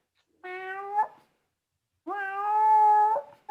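A man imitates a cat with his voice, giving two drawn-out meows, a short one and then a longer, louder one after a brief silence, close and clear.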